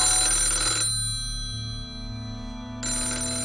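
A phone ringtone plays in steady electronic tones, pausing briefly in the middle before resuming, close and clear with no talking.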